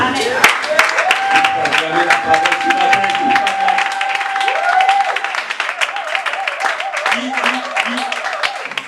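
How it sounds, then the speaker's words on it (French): A church congregation claps and cheers over sustained music and a voice, the applause a dense, steady patter throughout, loud and close. "Est-ce qu'on peut se acclamer la parole?"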